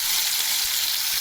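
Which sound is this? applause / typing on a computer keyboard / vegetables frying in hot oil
vegetables frying in hot oil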